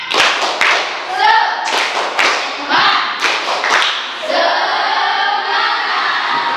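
Schoolchildren doing the 'tepuk semangat' spirit clap, a loud patterned burst of group claps and thumps mixed with chanting voices, ending in a sustained shout.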